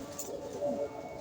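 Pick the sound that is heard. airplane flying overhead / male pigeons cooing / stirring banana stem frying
male pigeons cooing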